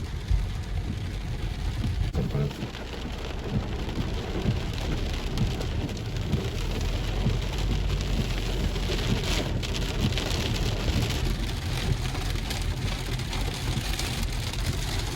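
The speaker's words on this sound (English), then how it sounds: "Oh man, a lot of rain." Heavy rain pours down steadily and densely across the whole stretch, with a constant hiss of drops hitting surfaces and no one speaking.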